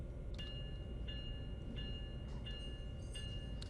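Amtrak train coasting into a New York station in Train Sim World, a low steady rumble of rolling wheels beneath faint repeated clicks and hum, with no talk over it.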